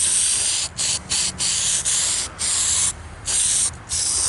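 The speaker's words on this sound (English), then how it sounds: "It's actually paint stripper, like airplane stripper, but in a can." Aerosol paint stripper hisses steadily from a can onto a 1959 Ford Galaxie Fairlane 500, in several close, loud spray bursts separated by brief pauses.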